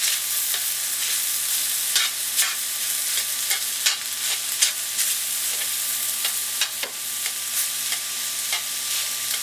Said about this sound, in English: Add your onions first and stir them in, letting them saute for about 3 or 4 minutes